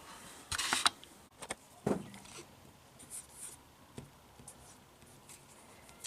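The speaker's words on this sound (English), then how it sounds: "I'm going to be writing on my calendar and a Sharpie marker." A Sharpie marker writes on a paper calendar, giving short faint squeaky strokes and scratches in a few scattered bursts, close up and quiet in a still room, with no talk.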